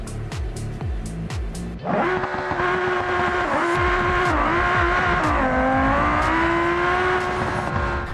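A roughly 2,400-horsepower drag car in BeamNG launches hard after a quiet idle, its engine screaming loud and close as it climbs steadily through the revs down the highway, with a brief tire chirp near the start.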